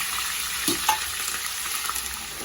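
Steady, loud crackling sizzle of mustard seeds, cumin, chillies, garlic and curry leaves frying in hot oil, continuous throughout with small pops.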